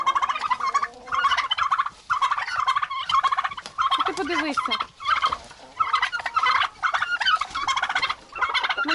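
Several farmyard turkeys scuffle and gobble loudly up close in rapid, rattling bursts with brief pauses, and a person speaks briefly among them.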